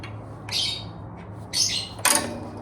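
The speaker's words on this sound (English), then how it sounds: "These birds are very chatty today." Outdoor birds give three loud, harsh squawking calls in quick bursts, each short and close, with quiet background between them.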